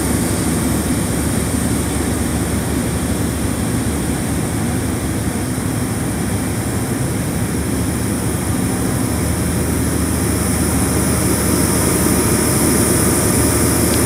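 Class 70 diesel locomotive 70015 passes hauling a train to a refinery, producing a loud, continuous heavy engine roar and rumble that holds steady for the whole stretch, with no voices.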